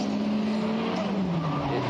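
Formula Drift Japan race car drifting at Okayama International Circuit, engine roaring with a sustained tire squeal that falls slightly in pitch as it slides past, loud and close over crowd ambience.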